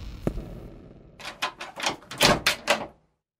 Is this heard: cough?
no